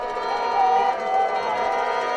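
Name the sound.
home crowd at football game, East Campus Stadium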